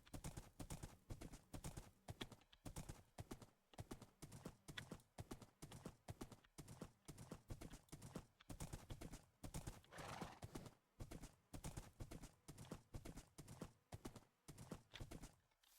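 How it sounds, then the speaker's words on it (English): Horse hooves clip-clopping in Minecraft, a fast steady rhythm of loud close steps running nonstop, with a brief whinny partway through. "We're gonna call the horse."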